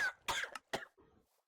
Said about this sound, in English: Why are you coughing on me?